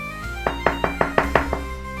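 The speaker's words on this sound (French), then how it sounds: "On frappa à la porte de la cellule et Adelaide sursauta." Six firm knocks rap on a wooden monastery cell door in an even, unhurried rhythm, each one close and distinct against a quiet room.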